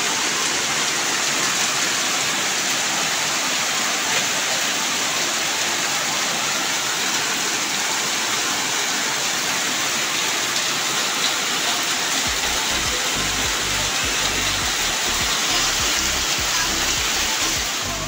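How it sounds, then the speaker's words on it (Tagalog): Heavy rain roars down in a dense, constant hiss that fills the space, loud and close throughout, with low rumbling joining near the end. "ang lakas ng ulan."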